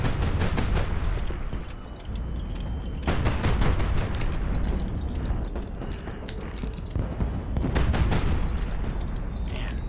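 Ship cannon fire in the naval combat game HighFleet, a dense run of repeated booming shots and rumbling blasts that carries steadily through the whole stretch, loud and close.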